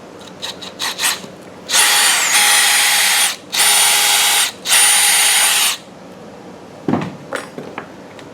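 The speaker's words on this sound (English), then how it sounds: "So the one with the smaller holes, I'm going to drill out" A power drill whines through three sustained bursts, drilling out small holes in a bracket, loud and close, with brief pauses between, preceded and followed by light tapping and handling.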